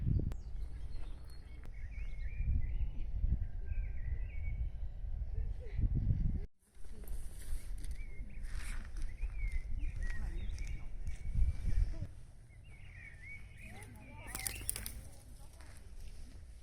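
Small birds chirp and twitter intermittently at middle distance over low outdoor rumble and footsteps in a quiet former playground lot in the Kopli Lines area of Tallinn, Estonia, with the chirps thickening toward the end.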